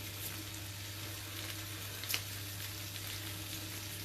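Salmon fillet frying gently in a pan on low heat, a soft, steady sizzle running throughout with a low hum beneath and one brief clatter near the middle, no voices.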